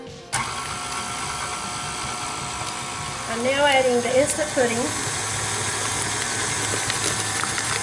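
Electric mixer whirring steadily through espresso rum cake batter, a constant buzzing hum running under a person's voice as instant pudding is poured into the bowl.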